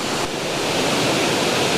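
A waterfall roars as a steady, unbroken rush of white-noise water, loud and close, with no voices over it.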